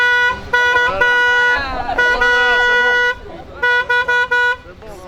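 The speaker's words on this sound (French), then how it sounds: "Il faut klaxonner si ça marche" A cement-laden truck horn honks in several bursts, loud and close, sounding over people talking and the hum of nearby traffic.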